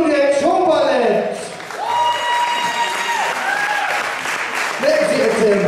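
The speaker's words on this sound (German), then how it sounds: "Ein riesen Applaus für das Bundujek Showballett." An audience at a carnival show applauds a show ballet with loud, sustained clapping and some crowd noise, while a voice speaks over it.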